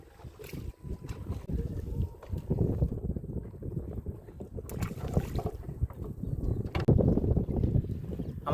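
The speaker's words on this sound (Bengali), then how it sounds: "এই পারে যত যাচ্ছে হাওয়া বেশি বাড়ছে" Steady wind blowing over a river in the Sundarbans, a low continuous rush and buffeting with gusts swelling and easing, heard from a small boat on the water with no talking.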